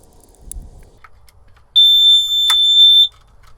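Carbon monoxide detector in a camper van sounding its test alarm after batteries go in: one loud, sharp electronic beep lasting over a second, following faint clicks and handling noises, no talk.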